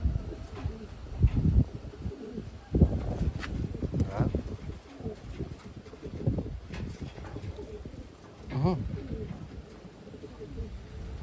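Big Wantai pigeons cooing at close range, soft low coos rising and falling in bursts, with handling noise and someone speaking quietly among the birds.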